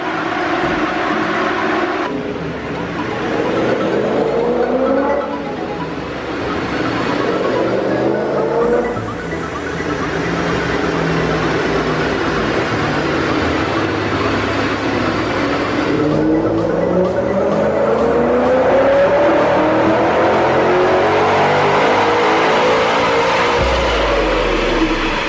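A supercharged BMW M5 engine revs hard in long, loud sustained pulls, its pitch climbing and falling again through several sweeps.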